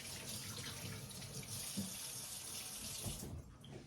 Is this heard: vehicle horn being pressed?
no